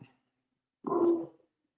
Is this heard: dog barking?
yes